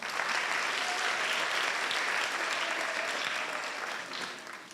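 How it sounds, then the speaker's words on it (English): Audience at an annual school day claps steadily for a student, dense applause holding loud and even throughout before easing slightly near the end. "Can we clap for her?"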